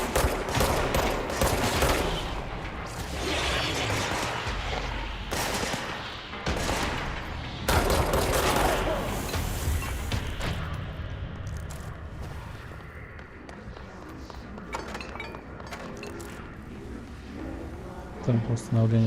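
Dense gunfire and explosions from the video game Control, rapid bursts and booms filling most of the stretch with a few quieter gaps, while someone talks over the action.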